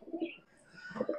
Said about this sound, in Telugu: తిడుతుంది మా పావురం, తిడుతుంది. సౌండ్ చూసారా